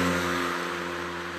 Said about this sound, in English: Somebody's driving a motorcycle by us.